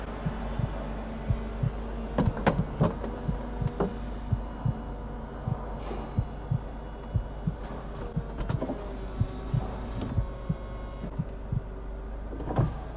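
Electric folding roof on a cheap, bright yellow Mercedes R170 SLK cycling through its motion: a steady motor hum with a faint throb, punctuated by repeated clicks and soft mechanical thumps, heard close and without talk.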